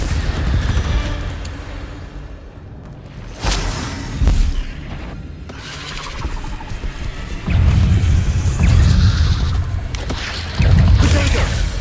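Incendio fire spells cast in Hogwarts Legacy, a series of loud booming blasts with crackling bursts that swell and fade in several waves over continuous game noise.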